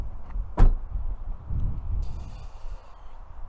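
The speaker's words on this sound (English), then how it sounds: "Closing the door" The door of a Mazda MX-30 electric car shuts with one firm thud, followed by faint rustling and a soft high whir from the car.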